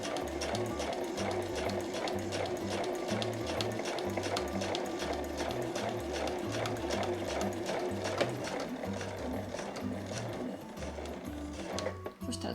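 A sewing machine stitches fast and steadily over the start of a seam on a small frilled drawstring pouch made from fabric scraps. Its close mechanical whirring and clatter keep an even rhythm until it stops near the end, with a voice talking over it.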